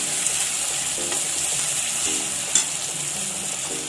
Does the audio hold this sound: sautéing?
yes